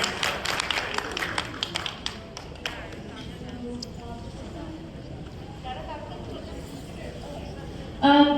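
Audience applause rings out after a performance at a Saraswati Puja celebration, a burst of scattered claps that thins out and fades within a few seconds, leaving a quiet room and a sudden louder noise at the end.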